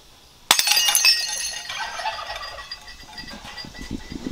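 Glass inside a bag smashed with a hammer: one sharp, loud crash, then a long spray of tinkling, clinking shards that slowly settles into scattered small rattles.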